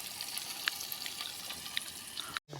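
Steady, soft sizzling of chicken frying in a pan inside a tent at a night forest campsite, with a few faint crackles and pops, continuous until a brief cut near the end.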